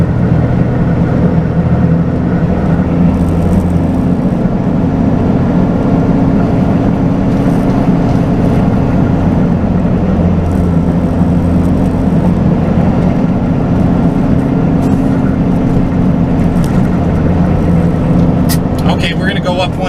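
A truck engine drones steadily and loud as it crawls at about 15 mph along Arizona's Highway 60 through the Salt River Canyon, a continuous low rumble with no pauses.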